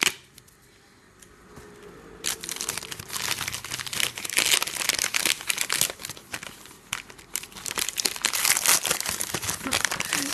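Packages are unwrapped and opened, with loud, close crinkling and tearing of paper and plastic in irregular bursts after a brief quiet start, and no talking.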